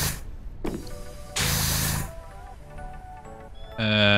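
A pressure washer sprays the wooden exterior of a steam locomotive in PowerWash Simulator, with loud hissing bursts, one long spray in the middle and another at the end, between tonal game sounds.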